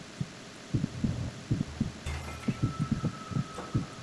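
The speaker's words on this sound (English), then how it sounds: "This is what a normal hostage sounds like with his heartbeat." Hostage heartbeat in the video game Metal Gear Solid 2, a steady, muffled double-thump pulse repeating at an even pace over a low hum, with a brief electronic tone partway through and no talking.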